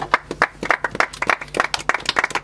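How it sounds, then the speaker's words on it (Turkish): A film crew claps on a music video set, a quick run of sharp, uneven hand claps from a few people, close and fairly loud. "Alkış beyler"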